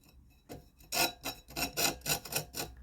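Cordless drill spinning a grinding bit against a tungsten chainsaw chain tooth clamped in place, giving a series of short rasping bursts in quick rhythm, close and moderately loud, with no talk.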